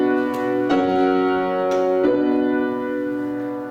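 Four-part keyboard passage with bass and soprano moving in parallel octaves, three full sustained chords struck in steady succession and ringing out at moderate loudness.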